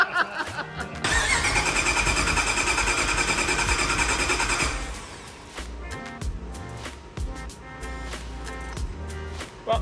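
A Demon Jeep Gladiator's starter cranks the engine in a loud, fast, even whir for about four seconds, then stops, followed by scattered clicks and clunks.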